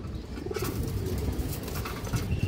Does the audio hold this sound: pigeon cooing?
yes